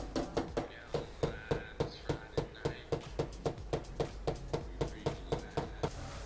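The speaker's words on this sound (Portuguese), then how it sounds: "E com o martelo ele vai batendo ainda onde tem tensão" Steady hammer taps on a Toyota MR2 door panel being worked back into shape, roughly three blows per second, sharp and close, repeating evenly throughout with no talk.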